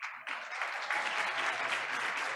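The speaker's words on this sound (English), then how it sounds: "Audience, I hope you're ready to clap and cheer" An audience at a school board of education meeting breaks into sustained applause and cheering, a dense steady wash of clapping that starts abruptly and carries on loud and close, with no speech over it.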